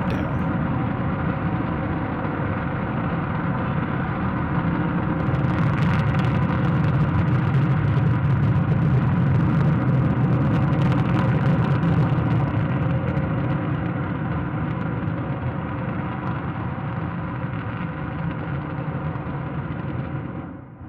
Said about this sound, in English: During this test, watch them throttle the Raptor engine.